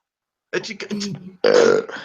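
Loud, close burps from a man in a casual hangout, two drawn-out belches in quick succession, the second longer and more resonant, with a short gap between them.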